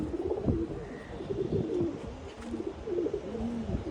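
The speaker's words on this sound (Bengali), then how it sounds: "আসলাম ছাদে কবুতরগুলো দেখতে।" Pigeons coo in a rooftop loft on a rainy day, a close, repeated run of soft throaty calls that rise and fall in a steady rhythm.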